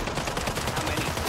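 Rapid gunfire in Call of Duty: Warzone (Modern Warfare III) crackles in a fast burst of shots, loud and close, with the rhythm of an automatic weapon.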